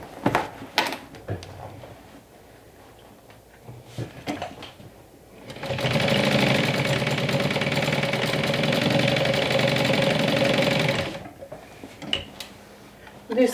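A sewing machine runs steadily for about five seconds in the middle, stitching a bag strap, with scattered handling clicks and rustles before and after.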